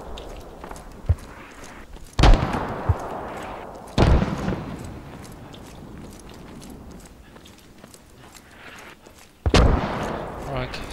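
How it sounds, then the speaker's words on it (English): Enemy mortar impacts and gunfire during a round of the military shooter Squad, heavy booms landing a few seconds apart over a steady rumble of distant fire, with players talking over it. "We've got enemy mortars."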